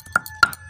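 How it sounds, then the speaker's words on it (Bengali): Raw onion being ground into a paste for a dhaba-style egg tadka, heard as two short, sharp knocks about a quarter second apart in an otherwise quiet kitchen. "এবার পেঁয়াজটাও বেটে নিচ্ছি"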